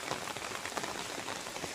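Steady, dense rain patters onto an empty village road on a quiet holiday morning, a continuous close hiss of drops with no voices or other sounds.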